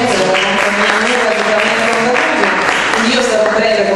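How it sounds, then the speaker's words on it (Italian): An audience applauds its president at an evening tribute to Paul Cézanne in Lecce, a continuous rush of clapping with voices talking underneath, steady and fairly loud. "facciamo un applauso al nostro presidente"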